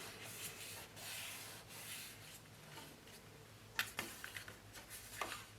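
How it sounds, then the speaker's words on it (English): Adhesive on paper photo album pages being rubbed down by hand, a quiet, steady scratchy rubbing with a few sharper scuffs near the end and no speech. "Then we'll remove the backing on the adhesive and rub it down."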